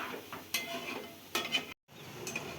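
Food stirred and fried in a pan until golden, with soft spoon scrapes and stirring strokes over a low sizzle, a few louder clatters of utensil against pan, and a brief silent gap near the end.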